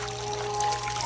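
Water flows down a wooden HABA marble run slope into a transparent tank, making a quiet, continuous trickle that stays steady for about a second.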